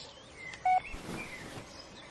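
A short electronic telephone dialing tone in an animated Hindi horror story as a call fails to connect: one brief, clear beep followed by faint higher chirping tones, with no voices.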